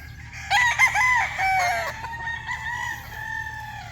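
A rooster crows loudly and close by, one long drawn-out call that trails off, with a faint low hum underneath.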